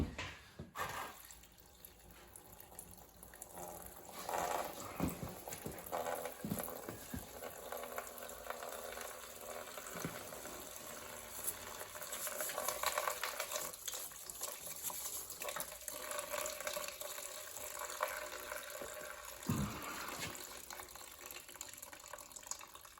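Fluid drains steadily from the engine of a 1973 Kubota L210 tractor, a continuous watery trickle and splash that keeps going at moderate level with a few louder pulses, no voices.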